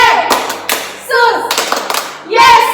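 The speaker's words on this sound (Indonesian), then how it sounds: "Untuk lebih semangatnya kita tepuk Tuhan Yesus yuk." Children clap their hands along to a Sunday school clap song at an HKBP church service, in a few quick bursts of claps mixed with sung or chanted voices and a leader speaking.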